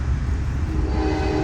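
Metro North commuter train riding along the Hudson near Peekskill, a loud, steady low rumble of the moving railcar heard from inside, unbroken throughout the short stretch.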